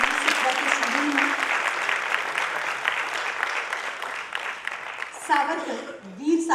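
An audience at a stage play applauds loudly and continuously, a dense wash of clapping, with a voice speaking over it near the end.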